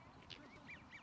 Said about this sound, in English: geese or coots or whatever all entering into the water just behind